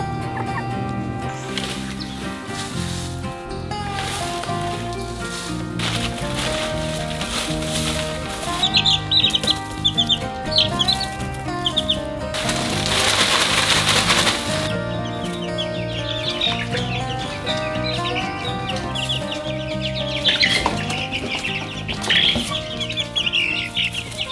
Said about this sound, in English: while I do enjoy having baby chickens around